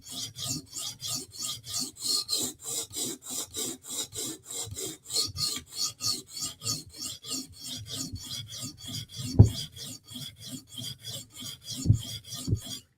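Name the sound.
knife sharpening on whetstones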